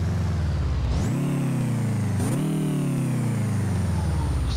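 A tuned prerunner truck engine making over 700 bhp in the BeamNG Drive game, loud and close, revving up in two rising pulls, each climbing then easing off into a sustained high drone, no speech.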